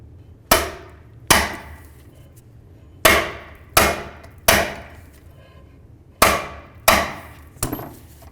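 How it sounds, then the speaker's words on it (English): A manual impact driver fitted with a Phillips bit is struck with a hammer to break loose the rear brake rotor screws on a 2011-2016 Hyundai Elantra, giving seven sharp, loud metallic bonks at uneven intervals, each ringing briefly. "use an impact driver that looks like this with a Phillips head bit, and put it into each of these holes and just give them a couple loving bonks"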